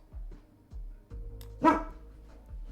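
A dog barks once, sharp and close, amid a repeating low electronic game tone in a quiet room; the single loud woof stands out clearly.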